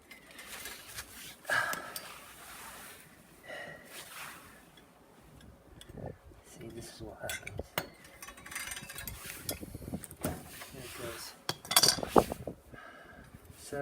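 Metal wrenches handled during the rebuild of a vintage Peugeot bicycle, a scattered series of quiet clinks and clatters of tools knocking together, with faint rustling between them.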